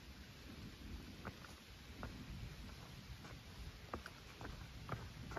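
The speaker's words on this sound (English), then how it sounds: "Ominous thunder in the background still" Rain falling steadily by a bog lake on the Appalachian Trail in summer, a constant close hiss with scattered drip taps; no distinct thunder stands out.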